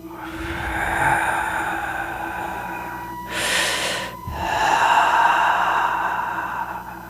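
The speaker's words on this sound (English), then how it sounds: "Breathing." Deep, heavy breathing of a massive tortoise creature: a long rasping exhale, a sharp snort-like burst of air, then another drawn-out breath, close and alone with no talking.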